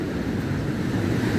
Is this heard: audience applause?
no